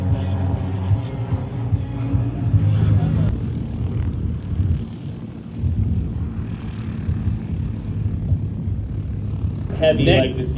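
A plane at an airshow going to full throttle on the runway, its engine roaring as a steady low drone that swells and dips, with wind buffeting the microphone and a commentator talking over it.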